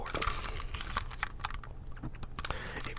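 Typing on a computer keyboard, a close run of quick, irregular plastic key clicks and taps that keeps going throughout, with no one talking.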